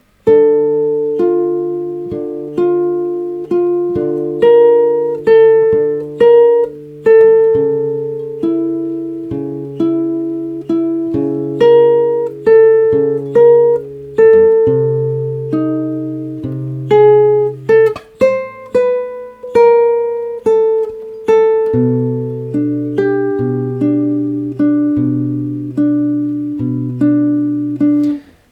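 Slow fingerstyle guitar plays a chord melody arrangement, with plucked bass notes under a sustained melody line, clear and close with no talking.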